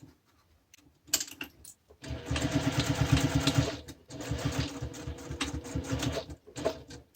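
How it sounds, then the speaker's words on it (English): A sewing machine runs in two long bursts, stitching the seam of a fabric zippy pouch, its rapid needle chatter loud and close with brief pauses between runs. "I'm going to go ahead and sew this with the seam allowance given in the pattern"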